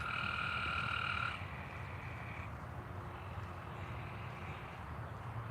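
Frogs croak steadily throughout, a dense chorus of near and distant calls under a bed of background noise, with a brief high tonal hum fading in the first seconds.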